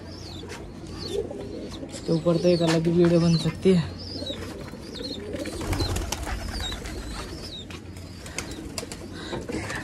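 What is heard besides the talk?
pigeons cooing while being shut in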